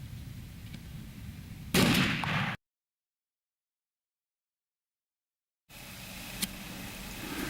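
A single shotgun blast fired at a patterning board gives a brief, broad burst against outdoor background noise, followed by a stretch of total silence.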